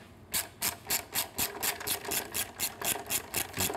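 A socket wrench with an 8 mm socket works a bolt loose on a Triumph Street Twin motorcycle, giving a steady run of about a dozen evenly spaced rasping ratchet strokes, close and moderately loud.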